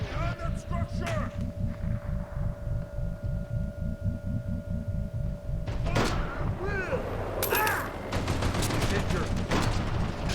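An enemy gunner in Mercenaries 2 fires in rapid, rhythmic bursts of heavy gunfire, close and loud, with further shots and impacts layered in later.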